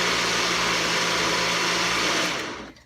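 A blender whirs loudly and steadily while blending a warm berry gelatin mixture, a constant motor drone that cuts off abruptly near the end.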